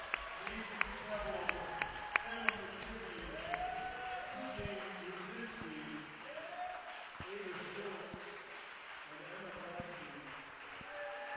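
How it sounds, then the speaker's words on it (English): Crowd applause in a high school basketball gym at the Gaylord St. Mary vs Johannesburg-Lewiston home closer, moderate and steady, with a few sharp claps standing out, under a commentator's voice talking throughout. "As a well-deserved round of applause."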